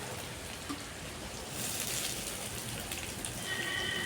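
Large-cut onions frying in hot mustard oil in a pan, a steady dense sizzle and crackle close up that stays loud throughout, no talking.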